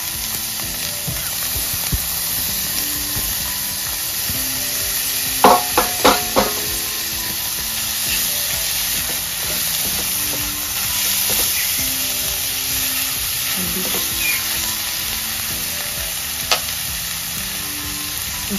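Bread egg roll filling fries in a pan with a loud, continuous close sizzle, broken by a few quick clinks of stirring around the middle, and no one speaks.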